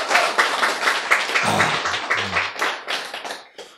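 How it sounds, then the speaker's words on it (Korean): An audience at a spiritual lecture claps in quick, rhythmic bursts for nearly four seconds, fairly near and moderately loud, with a voice briefly audible partway through before the applause thins out. "박수!"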